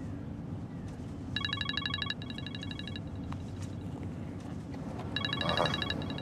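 A telephone rings in a Turkish drama scene, two bursts of trilling electronic rings separated by a gap, moderately loud over a low background rumble.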